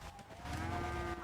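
A cow lets out a single low, sustained moo that swells and holds near the end, fairly faint and heard on its own.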